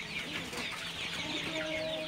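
Chickens in a poultry shed cluck continuously as a flock, a steady layered murmur of fowl calls at moderate volume with no voices.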